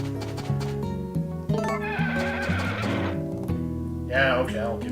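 Horse in the farming game Harvest Moon: A Wonderful Life, giving one short, high whinny near the end over game music, with hoofbeat-like clopping and talk earlier on.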